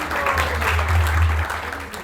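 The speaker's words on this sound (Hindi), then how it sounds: "उनके लिए जोरदार तालियां।" Enthusiastic applause from an audience at a youth festival drama performance, a dense, loud wash of clapping lasting about two seconds, with a low hum underneath.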